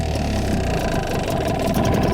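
An outboard motor on a Flagman 420 catamaran idles after warming up, giving a loud, steady, close-up drone with an even throb and no breaks.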